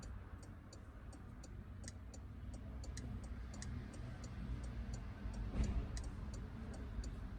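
Steady, regular ticking of an analog clock on the dashboard of a 2022 Porsche Macan, quiet and close, repeating at an even pace over a low cabin rumble.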